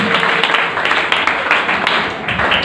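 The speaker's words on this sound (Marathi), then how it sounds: "टाळ्या वाजवून." A school audience claps steadily throughout, a dense, continuous patter of many hands at close range with no break.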